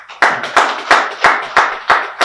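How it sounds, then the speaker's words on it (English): Several pairs of hands clap in a slow, loud, close rhythm, about seven distinct claps at a Nigerian business fair session, with no voices over them. "Thank you for that round of applause"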